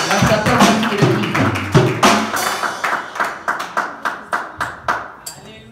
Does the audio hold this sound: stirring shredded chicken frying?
no